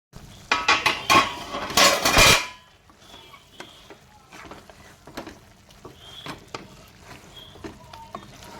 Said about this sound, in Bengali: মাঝে মধ্যে এরকম নেড়ে দিয়ে যাব যতক্ষণ না জলটা পুরো শুকিয়ে যাচ্ছে